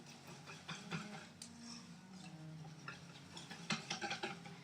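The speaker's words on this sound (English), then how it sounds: "And then I'm just going to whisk it up." Cacao powder is whisked into a smooth paste in a small bowl, making faint, rapid ticking and scraping strokes of the whisk that come in uneven bursts, quiet and close.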